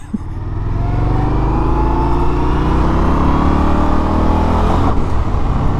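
A car engine revs hard and climbs steadily in pitch as it accelerates, loud and close with no talking, then falls off near the end.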